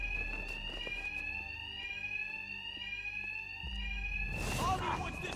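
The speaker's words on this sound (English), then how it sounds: "Two-Face's thugs won't hear me over the alarm." A building alarm in Batman Arkham Knight rings steadily with a repeating high electronic tone, sustained throughout and fairly quiet in the game mix, with a burst of other game noise near the end.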